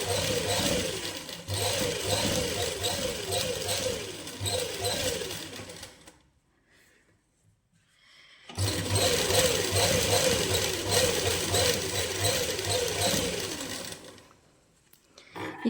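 A sewing machine stitches a seam on a winter suit, running in two long steady bursts of rapid mechanical whirring separated by a brief quiet pause, with a short restart at the end.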